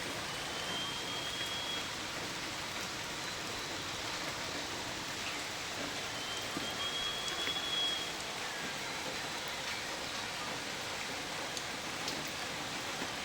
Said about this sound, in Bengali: টিপ টিপ বৃষ্টি, খুব সৌন্দর্য,